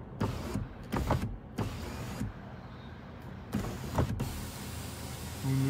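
A power moonroof on a Ford Bronco Raptor whirs open and closed, several short motor bursts with pauses between them, close by and moderately quiet.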